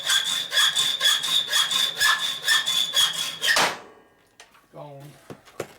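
A hand saw cuts a quarter inch off a metal motorcycle part in a rapid, rhythmic series of rasping strokes that stop abruptly, followed by a few clanks and a short voice.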